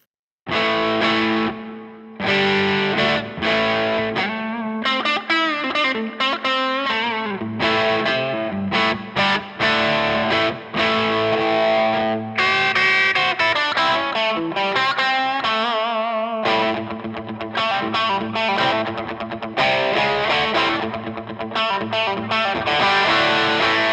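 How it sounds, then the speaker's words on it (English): Electric guitar through a very low-gain, bright-set Halcyon Gold style overdrive pedal in mod mode, playing bluesy chords and riffs with brief pauses, loud and close with no talking. "this is Origin Effects kind of clone idea. I've got this set with very low gain, but it's set quite bright"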